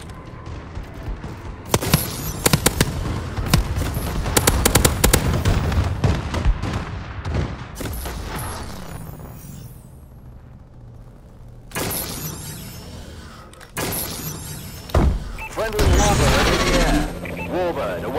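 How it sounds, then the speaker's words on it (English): Call of Duty: Advanced Warfare team deathmatch with a friendly bombing run: bursts of explosions and gunfire come in loud dense clusters, easing to a quieter stretch midway before more sharp blasts and booms, with game voice chatter mixed in. "Friendly bombing run clearing the way."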